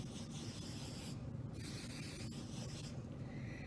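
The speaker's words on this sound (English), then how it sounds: "So I'll spray the top." Hairspray from an aerosol can misted onto the top of hair in a low ponytail: a quiet, continuous hissing spray that runs close and steady, with a couple of brief pauses and no talking.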